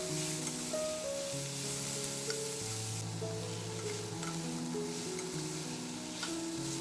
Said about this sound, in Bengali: এবার মোচাটাকে দিয়ে ভালোভাবে মশলাগুলো কষিয়ে নেব দুই থেকে তিন মিনিট